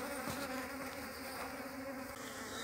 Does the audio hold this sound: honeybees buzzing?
yes